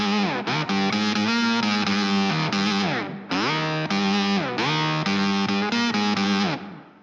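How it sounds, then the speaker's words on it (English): Electric guitar through an ENO Music octaver pedal set to double sub octave, producing a thick, distorted, synth-like tone with sliding melodic phrases and heavy low rumble, played continuously without talk. "That double sub octave will bring out a lot of that bass rumble in your guitar,"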